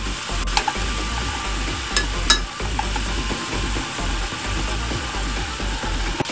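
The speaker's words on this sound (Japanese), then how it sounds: "さらにですね、ここにニンニクを入れていきます。" Garlic fries in a pan with sake for a garlic-heavy chicken skin rice bowl, giving a loud, steady sizzle and crackle close by with occasional stirring scrapes and no talking.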